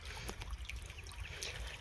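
Water trickling from a tap line laid out in a farm field, a faint, uneven dribble with low rumbling background noise and a few brief splashy bursts.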